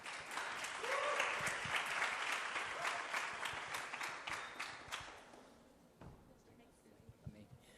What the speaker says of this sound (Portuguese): Gente, aplauda o Senhor,